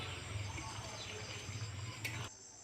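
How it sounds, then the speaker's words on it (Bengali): Vegetable curry of potato, eggplant and tomato with cumin paste being stirred in a pan, a soft continuous sizzle with light scraping, quiet and steady before cutting off near the end. "জিরে বাটাটা দিয়ে নেড়ে চেড়ে দিলাম"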